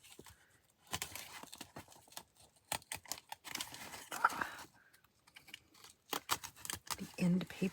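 Close, crisp cutting and scraping through the end papers of a book block, short clicks and slicing bursts in a quiet room with faint rustles between them and no talk over them.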